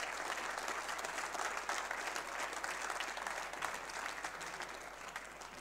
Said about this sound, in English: Give both players a big round of applause